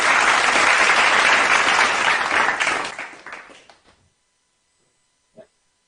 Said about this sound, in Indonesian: Boleh beri tepuk tangan untuk Putri Kamila.